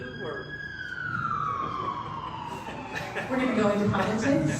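An emergency vehicle siren wails with a long falling sweep and a repeating cycle, moderately loud, under someone speaking throughout.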